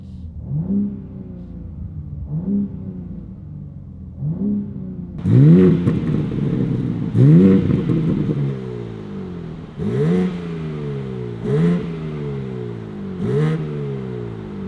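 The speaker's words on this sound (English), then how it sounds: "rev it right now for you guys so you guys can hear what the stock setup looks like" Repeated throttle blips from a 2025 BMW M3 Competition engine through its stock exhaust, each rev rising and falling in pitch, a few softer ones, then a string of sharper louder revs, close up.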